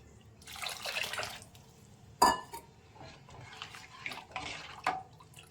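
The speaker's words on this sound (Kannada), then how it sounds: "ಈಗ ನಾನು ಮಸಾಲೆ ತೊಳೆದಿರೋ ಪಾತ್ರೆದ ನೀರು ಇದೆಯಲ್ಲ ಅದನ್ನು ಕೂಡ ಸೇರಿಸ್ಕೊಂಡಿದ್ದೀನಿ" Water rinsed from a masala-ground vessel is poured into a pot of obbattu sambar, giving faint trickling and splashing in short bursts, with one sharp knock partway through, and no voices.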